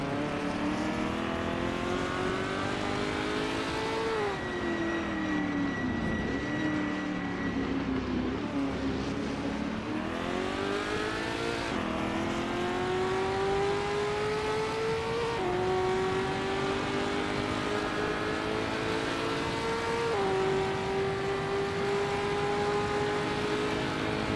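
A race car in a sim-racing game laps Le Mans in a WSC60 vintage sports-car event. The engine drones loudly and continuously, with revs climbing, dropping sharply at each gear change, then climbing again.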